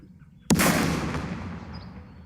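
A mortar in the Second Front wargame fires at an anti-tank gun: one sharp, loud report followed by a long decaying rumble and no talk.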